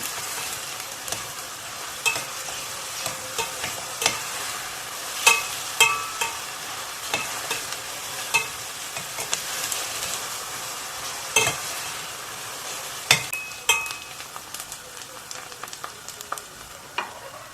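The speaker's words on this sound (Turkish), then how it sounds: "1-2 dakika karıştırarak soğanlarımızı güzel bir şekilde kavuralım." Onions sizzle steadily in hot olive oil in a pot, with a spoon scraping and clinking against the pot at irregular intervals.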